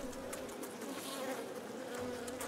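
Honeybees in a hive swarm around a rejected queen, a dense, close buzzing hum with overlapping wingbeat tones and occasional louder passes, continuous and without speech.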